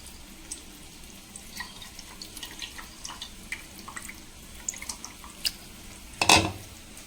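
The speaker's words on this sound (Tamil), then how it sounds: "புளி தண்ணியை கொஞ்சமாக சேர்த்துக்கலாம்." A short burst of tamarind water pouring and splashing into amla pickle near the end, over a steady faint background of soft ticks and light crackling.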